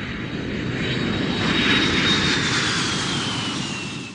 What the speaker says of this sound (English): Passenger airplane.